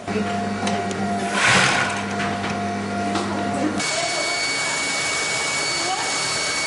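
An overlocking sewing machine stitches bags for sanitary pads in a small workshop, running with a steady mechanical whir that stops partway, leaving a constant background hum; it is close and fairly loud.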